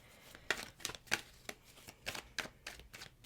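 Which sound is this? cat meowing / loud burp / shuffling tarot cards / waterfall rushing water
shuffling tarot cards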